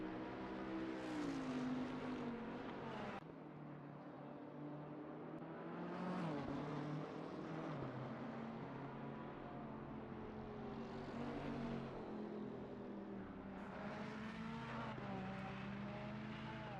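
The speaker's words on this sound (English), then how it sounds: "it panned on the car, and then you didn't hear anything, and then it come back, and then it went again" Race car engine in the Assetto Corsa Competizione racing game, a loud sustained drone with shifting pitch that drops out abruptly around three seconds, then swells back and fades again, with no talking.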